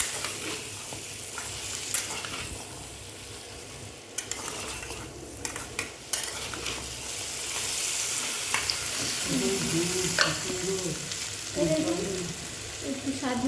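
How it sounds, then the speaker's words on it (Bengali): Sliced pointed gourd sizzles as it is stirred in hot oil in a pan, with a steady frying hiss, scraping and utensil knocks against the pot, and a voice speaking briefly in the background. "সবজিটা দিয়ে এবার একটু নাড়াচাড়া করে তারপর এবার মশলাগুলো দেবে"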